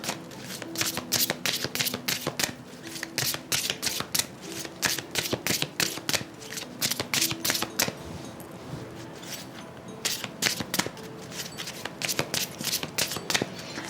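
Oracle cards being shuffled by hand, rapid repeated riffling bursts of crisp paper flicks in quick rhythmic runs, close and clear, with brief pauses between rounds and no talking.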